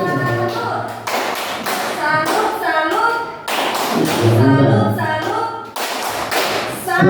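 A classroom group performs a rhythmic salute clap, sharp patterned bursts of hand claps and taps in repeated sequences, close and loud, with short spoken calls between the rounds.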